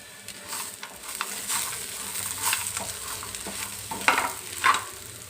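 Roasted peanuts stirred into a pan of frying ivy gourd: a soft continuous sizzle under scraping spoon strokes and a few sharper clatters near the end, close and alone.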